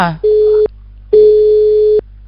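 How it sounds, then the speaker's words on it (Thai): A telephone busy signal on a radio call-in line gives two steady tone bursts, each about half a second to a second long and separated by a short gap. It is loud and clear, with a brief voice fragment at the start. "รู้สึกว่าสายทางภาคเหนือนี่จะติดสายโทรศัพท์อยู่นะคะ"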